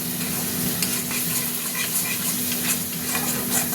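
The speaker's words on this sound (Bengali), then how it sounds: "ভেজে যাচ্ছে তলায়" Spices, including garam masala, fry in oil in a wok for a spicy rohu fish curry. A dense, even sizzle with stirring scrapes continues throughout, over a faint steady hum.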